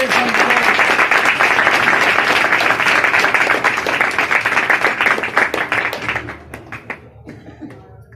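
Loud, sustained applause from a church congregation at a Christian worship service, dense clapping filling the space for about six seconds before thinning out into scattered claps and fading.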